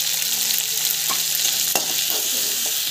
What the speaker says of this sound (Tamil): ஸோ கடலைப்பருப்பு கொஞ்சம் போட்டேன். ஸோ நல்லா வதங்கிடும்.